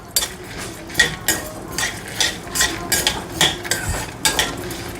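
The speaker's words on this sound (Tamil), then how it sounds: "இந்த பருப்பும் நல்லா செவக்கணும். நல்லா வதக்கிட்டே இருங்க." Toor dal and garlic sautéed in a pan, heard as rapid, repeated scraping and clinking of a spoon against the pan over a soft steady sizzle, close and fairly loud.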